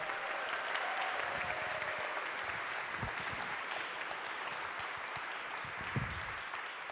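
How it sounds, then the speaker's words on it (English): A seated audience at a literary festival conversation applauds steadily, a dense even wash of clapping from many hands that holds at a constant level throughout, with no voices over it. "Please give them a round of applause."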